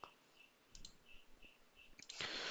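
Faint computer mouse clicks tick in a sparse series while a spreadsheet is worked on, ending in a brief burst of noise.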